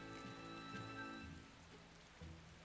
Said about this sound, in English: It rains so much in West Gand.